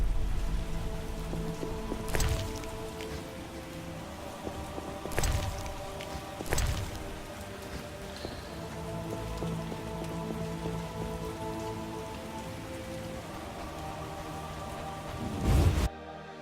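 Steady rain in the video game The Witcher patters and hisses without pause, with a few sharp thuds and distant rumbles breaking through the wet background.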